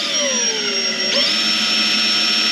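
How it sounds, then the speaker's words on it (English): A power drill whines steadily while boring a pilot hole into wood, its pitch sliding down and then jumping back up about halfway through as the bit bites, loud and close throughout. "I'm going to drill this pilot hole"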